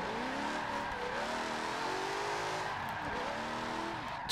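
A Jaguar racing engine in Forza 7 drones steadily at moderate volume, its pitch rising and dipping as the car accelerates and eases off, with no voices.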